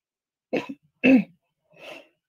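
Three separate coughs, the first two sharp and close, the last softer and breathier, spaced about half a second apart.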